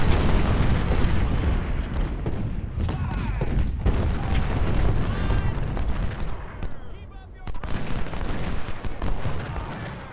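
Cannon artillery booms and volleys of musket fire roll across a Civil War battle at Saunders Farm in a strategy game, with loud repeated blasts and crackling gunfire layered densely over one another throughout.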